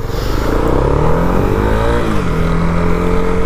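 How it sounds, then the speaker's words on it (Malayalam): A 2022 Honda CB300R naked sport motorcycle rumbles loudly and close by, its exhaust note a steady low drone with a slight pitch dip and rise, as if the engine is blipped while moving. "ബിക്കോസ് ആ ഒരു എക്സോസ്റ്റ് നോട്ട് ഡെഫിനറ്റ്ലി നമുക്ക് ആ ഒരു പഴയ ഡൂക്കിൻ്റെ ആ ഒരു ഓർമ്മയാണ് തരുന്നത്"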